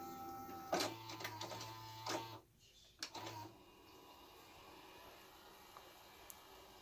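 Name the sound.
Toshiba Betamax VCR V-600C loading a tape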